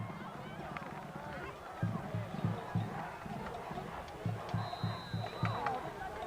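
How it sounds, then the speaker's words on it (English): Football crowd at a Wyoming Area Warriors home game against the Berwick Bulldogs cheers after a touchdown, a steady roar of voices swelling in bursts, with rhythmic thumping and a whistle cutting through. "And the crowd loves it."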